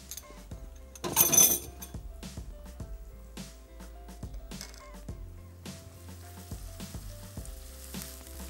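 Onions frying with ginger-garlic paste in a pan: a quiet background sizzle, broken by scattered clinks and scrapes of a spoon, with one louder burst of hissing as the paste goes in.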